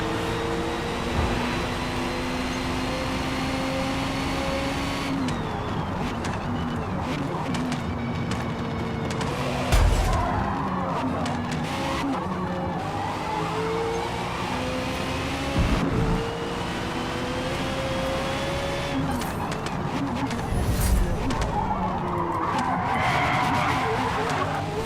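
Tires skid and squeal in Forza Motorsport as a car is flicked sideways with the handbrake, engine revving and shifting through gears, several loud drawn-out skids across the run.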